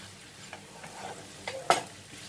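Fried potatoes being stirred into sauce in a pan: soft, quiet scraping strokes with a light sizzle, ending in a sharper clack of the utensil against the pan.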